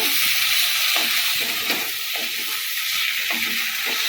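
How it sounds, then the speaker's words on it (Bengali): Masala brinjal with potatoes sizzles steadily in a pan as chopped coriander leaves are stirred in, with soft scraping strokes recurring over a constant frying hiss. "এবার ধনে পাতাটা দিয়ে ভালো করে মিশিয়ে নেব"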